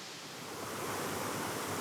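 Steady broadband rush of falling water from creek waterfalls in an Arkansas wilderness area, a constant hiss and roar that swells slightly, heard alone with no voices.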